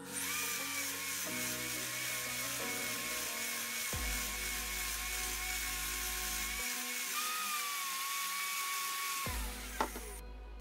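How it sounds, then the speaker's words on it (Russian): An electric grinder whines steadily while smoothing a dried, hardened foam gun, its high motor pitch shifting as load changes, loud and close with no speech, ending in a brief clunk. "Ну а теперь воспользуемся шлифмашинкой и все это дело малек облагородим."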